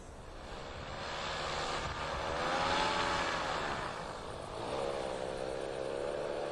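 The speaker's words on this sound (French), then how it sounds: "Alain Arnoux a été autorisé à utiliser un parapente motorisé pour profiter de la vue d'ensemble du site" A motorized paraglider's small propeller engine drones overhead above the ruins of Carthage, its pitch rising and falling as it passes, loud and steady with a whining buzz.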